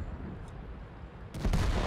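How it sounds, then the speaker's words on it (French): Tank cannon fire in the World of Tanks video game during an esports match, a broad booming blast arriving late after a steady low rumble, loud and heavy with no talk over it. "il utilise vraiment son canon en permanence là"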